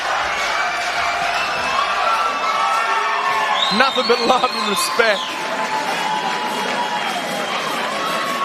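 A crowd at a Beatdown Promotions fight night roars and cheers continuously, with a few whoops and shouts, while an announcer talks over the noise throughout.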